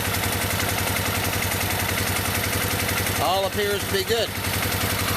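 A 1990 Suzuki VX800 motorcycle engine idles after an oil change, a steady close rumble throughout while someone talks briefly over it.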